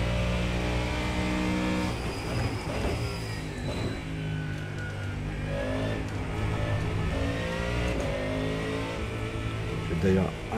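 A Ford Mustang GT3 race car engine in the iRacing sim, a loud, raspy note that revs up and down continuously with rising and falling pitch sweeps, while someone talks over it throughout.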